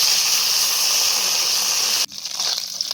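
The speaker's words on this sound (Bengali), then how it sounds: "মাছগুলো তেলের মধ্যে দিয়ে দিলাম" Fish rubbed with turmeric and salt hitting hot mustard oil in a wok, giving a loud, steady hiss and sizzle that drops abruptly near the end and then carries on more quietly.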